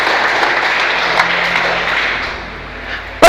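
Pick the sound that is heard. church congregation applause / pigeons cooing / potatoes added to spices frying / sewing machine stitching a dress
church congregation applause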